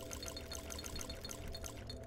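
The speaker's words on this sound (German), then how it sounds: "Also erstmal Wasser auffüllen." Water being filled up in the game This War of Mine: a steady close pouring and trickling sound with small regular bubbling splashes, alone and fairly quiet.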